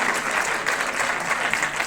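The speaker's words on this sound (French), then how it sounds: "Et les gens, ils applaudissent." A cinema audience claps at the end of a film screening, a dense, loud burst of applause filling the room without pause.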